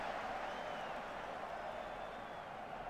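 Simulated football stadium crowd from the video game Football Manager 2020, a faint, steady distant murmur and roar of spectators with no distinct peaks.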